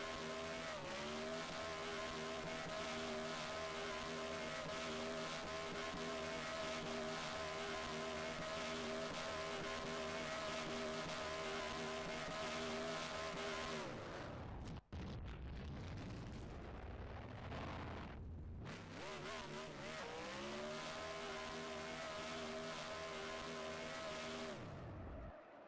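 A race truck at Talladega Superspeedway roars through a celebratory burnout, engine holding a loud sustained pitch with tire squeal. It briefly cuts out and sputters midway, then revs hard again before dropping off.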